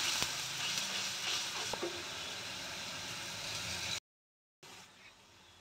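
Freshly ground spices hit a pan of browned onions for chana masala, giving a soft, steady sizzle and frying hiss with a few stirring clicks, fairly quiet, then a brief cut to silence before the sizzle resumes.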